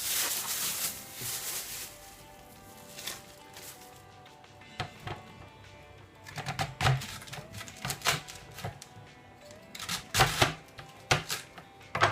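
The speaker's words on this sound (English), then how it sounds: "let's just get everything chopped while we're in the chopping mood" Repeated crisp knife chops on a cutting board, coming in quick irregular bursts with short pauses, close and fairly clear, no talking.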